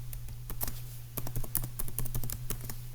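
Typing code for a beginner web page on a computer keyboard, close and clear, with irregular bursts of keystroke clicks over a low steady hum.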